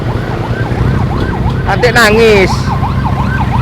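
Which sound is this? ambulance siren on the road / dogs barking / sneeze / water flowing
ambulance siren on the road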